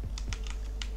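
Keys clack on a computer keyboard as a chat command is typed for a Minecraft server hosted on Aternos, several quick close taps in a short uneven burst over a steady low hum.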